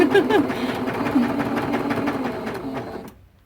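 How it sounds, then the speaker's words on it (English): A sewing machine runs while stitching a T-shirt quilt top, its rapid rattling motor whir loud and near before winding down and stopping abruptly near the end, a brief voice mixed in. "Sometimes it does not want to start sewing."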